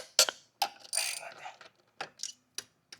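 A hand ratchet clicks in short separate bursts, close and crisp, as bracket bolts on a 2025 Subaru WRX intake are loosened, with brief quiet gaps between the runs of clicks.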